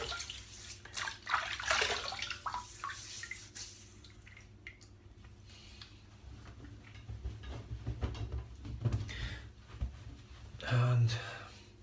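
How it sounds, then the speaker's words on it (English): Water splashes and drips as a man wets his head before shaving it with a Muhle R41 safety razor, with several close wet splashes and trickles over a low steady background. "I'm just going to wet my head"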